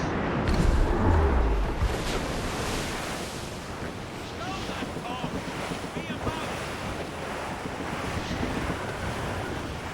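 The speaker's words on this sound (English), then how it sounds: "Wind get vicious." Strong, gusting wind roars over crashing sea waves aboard a sailing ship in the Assassin's Creed Rogue video game, a loud continuous rush with a low rumble early on.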